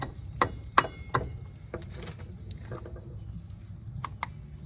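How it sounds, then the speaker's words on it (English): A hammer taps a part back onto a Polaris ATV axle, three sharp metallic knocks in quick succession followed by lighter scattered clinks and taps in a quiet workshop. "Okay, hammer that back in a little bit more."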